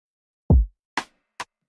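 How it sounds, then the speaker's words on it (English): Afroswing beat snare pattern: a deep booming hit followed by three short snappy snare strikes spaced unevenly with a slight swing, clean and alone. "This is what the snare sounds like."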